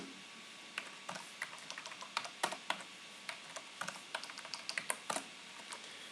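Soft, close clicking of computer keyboard keys typed in irregular bursts while writing code, quiet with a faint background hum and no talk.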